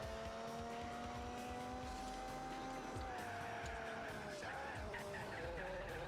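A race car in Gran Turismo 4 roars steadily under load while its tires squeal through a corner, the engine pitch holding, then shifting and dropping as the car accelerates, loud and continuous throughout.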